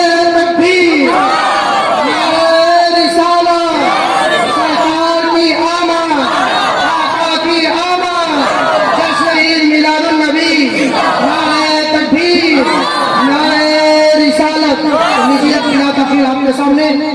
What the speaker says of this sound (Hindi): आप दोनों हाथ उठाकर नारे तकबीर का जवाब दें।